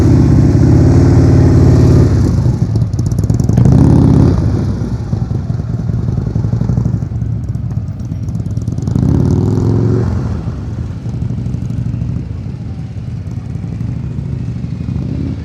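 A motorcycle engine is throttled during slow-speed riding practice, rising and falling in loud repeated revs near the microphone with a steady idle between bursts.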